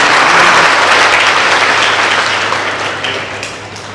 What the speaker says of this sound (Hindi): एक बार उस व्यक्ति के लिए तालियां होनी चाहिए